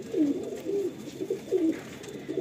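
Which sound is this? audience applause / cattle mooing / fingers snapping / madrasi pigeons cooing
madrasi pigeons cooing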